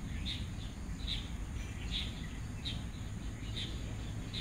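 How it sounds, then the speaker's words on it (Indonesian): Many birds chirp in a park, with flocks overhead. Short, high chirps repeat roughly every second at moderate distance over a steady low outdoor rumble, with no talking. "Kalian dengarkan suara burungnya banyak banget."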